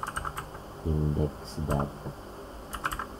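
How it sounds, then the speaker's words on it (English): Keys on a computer keyboard are tapped in two short quick bursts while entering a file name, the clicks close and crisp. Someone talks before and between the bursts. "I will type here"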